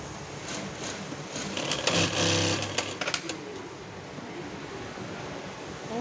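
A sewing machine stitches along the edge of a cushion for a two-seat backrest, a steady mechanical whir that swells louder mid-clip, then settles back into a soft, continuous hum with no voices.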